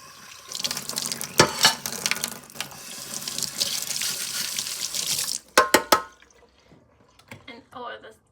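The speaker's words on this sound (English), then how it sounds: "And you just clean your dishes like this." Tap water runs and splashes into a kitchen sink while dishes are washed with a solid dish soap, a steady rush broken by brief clatters, then quieter drips and handling, with a voice talking over it.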